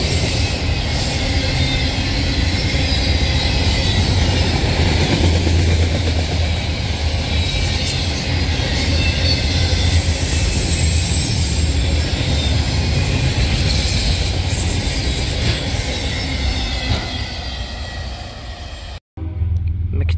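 A CSX mixed freight train with a Dash 8 locomotive rolls steadily past nearby, loud continuous rumble and wheel noise for about twenty seconds, with a brief dropout near the end.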